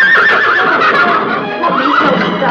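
A colt neighs loudly and continuously at close range, a long shrill whinny wavering in pitch over faint background hoofbeats, with no talking.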